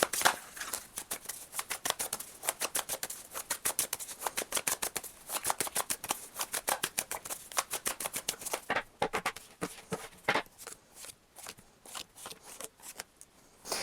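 Tarot cards being shuffled and riffled by hand, a long fast rapid-fire run of crisp flicking bursts that quickens toward the end, close and clear with no talking.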